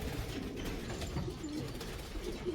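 Pigeons cooing inside a loft, soft low coos repeating under a steady busy background of rustling and bird noise, close and continuous.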